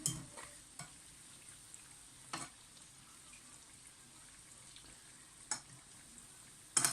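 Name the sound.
donuts frying in butter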